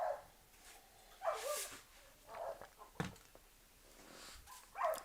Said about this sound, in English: I'm surprised that dog, the way it's been barking